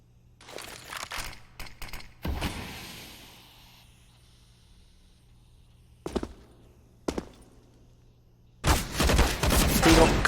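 Desert Eagle pistol shots in a competitive Counter-Strike match on the Mirage map: sharp, loud reports in bursts, a few isolated cracks, and a dense volley near the end, over faint background game noise.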